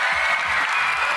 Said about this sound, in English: Clap for you.